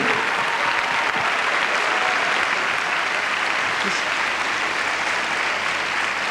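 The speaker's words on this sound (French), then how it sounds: "Je voudrais qu'on l'applaudisse aussi." A television studio audience at a 1999 French Eurovision selection show applauds continuously, a dense, even wash of clapping throughout.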